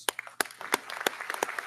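A few scattered claps ring out at a university commencement ceremony, sharp, separate and fairly close, as the audience begins applauding the faculty.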